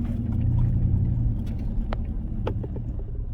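A car with an ABS warning light fault rolls up a street, its steady engine rumble and road noise holding close and even throughout, with no one talking.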